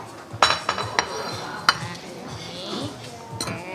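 A plate and cutlery handled while serving tiramisu, giving several sharp close clinks and clatters in the first half, followed by softer scraping, with people talking quietly around it.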